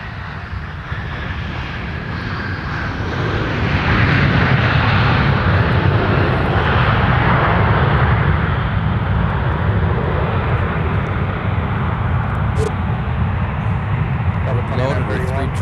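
A jet airliner powers up for takeoff on runway 17 at Minneapolis–Saint Paul airport, a loud, broad roar that swells after a few seconds and holds steadily from a moderate distance.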